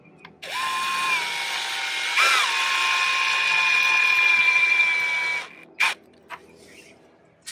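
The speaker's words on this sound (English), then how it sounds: "Notice that I'm screwing these in very slowly because stainless steel hardware is soft." A power drill drives stainless steel screws into boat hardware at slow speed, its whine steady for about five seconds with a brief surge partway through, followed by a few short clicks and bursts.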